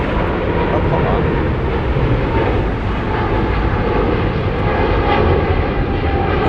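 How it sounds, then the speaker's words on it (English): A United Boeing 777-200 airliner passing Frankfurt airport: a loud, continuous jet roar that holds steady throughout with no break. "what you hear off camera, that is United Flight 47 en route to Houston Intercontinental"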